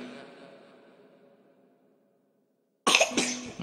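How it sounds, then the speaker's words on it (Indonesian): A sharp, close cough bursts out in two quick hacks after a faint fading murmur and a moment of near silence. "Batuk."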